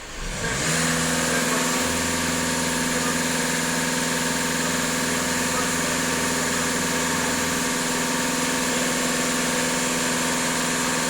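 A 2015-on VW Passat B8 with the 2.0 TDI EA288 diesel is revved and held at raised speed, a loud, steady, close engine tone that climbs quickly from idle and stays even, with no talking.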